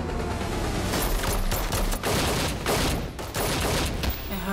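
Heavy, continuous gunfire and explosive bursts fill a German-language action movie trailer, loud and dense throughout with no pauses.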